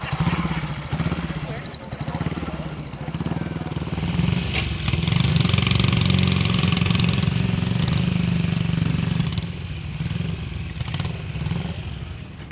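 BSA Gold Star motorcycles arrive at the busy Brooklands paddock, single-cylinder engines idling and revving close by with a clattering mechanical note, while voices talk in the background.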